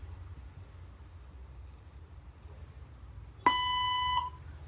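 A robotic language translator's single electronic beep sounds once, sharp and steady for under a second, after several seconds of quiet low hum.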